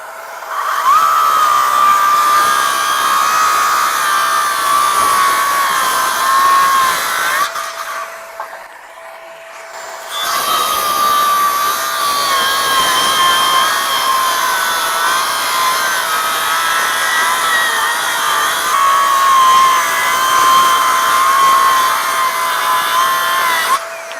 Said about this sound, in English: 6 1/4 inch circ saw, meant to do your rough cuts and cross cuts